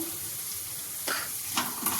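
Vegetables with chilli powder sizzle softly in a pan, a steady frying hiss beneath a few brief scraping stirs near the end, close up and fairly quiet.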